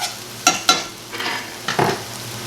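Breakfast hash frying in a pan, stirred with a few sharp utensil scrapes and clatters over a soft, steady sizzle, close and moderately loud with no talking.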